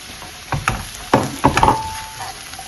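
Chopped beans tipped into a hot pan with chilli powder, a few clattering drops and scrapes followed by a soft sizzle.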